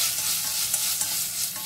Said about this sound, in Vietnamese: Đấy, cho vào chiên cá với gừng trước.